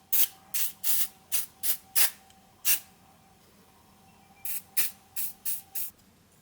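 Short hissing bursts of lubricant spray onto a moped cylinder and piston, a quick run of about six sprays, a pause, then five more, close and crisp.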